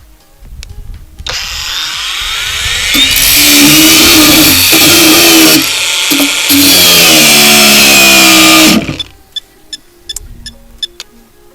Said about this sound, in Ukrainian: Акумулятор у нас остиг, кишем відпочила і продовжуємо, подивимося ще наскільки вистачить.